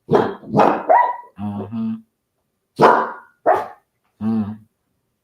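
Two dogs barking at close range in short, loud bursts separated by pauses, with a brief murmur of a voice between barks.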